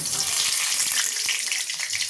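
Dry red chillies, whole garam masala and a bay leaf spit and sizzle in hot oil in a kadai, a steady close crackle throughout.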